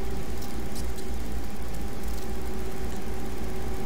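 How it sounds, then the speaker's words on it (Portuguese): A constant droning whine with a steady mechanical hum from the retarder rolls on without change inside a Scania Touring HD truck cab, with no talking. "Esse barulho que vocês estão ouvindo é o retarder."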